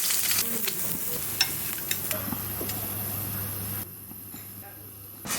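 An egg fries in a little oil in a pan for breakfast, giving a steady close sizzle with a few light scraping clicks of a utensil before the frying noise drops off.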